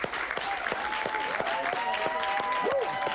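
A studio audience applauds a Cuban comedian as he is welcomed on stage, with steady, dense clapping and a few cheers throughout, under some overlapping voices.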